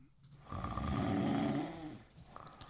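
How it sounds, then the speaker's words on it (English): A single drawn-out snore, close and fairly soft, rising and falling over about two seconds amid quiet room noise. "I think you like recorded me snoring"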